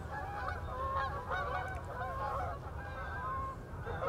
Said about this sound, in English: Don't look now, but there are these geese coming for us.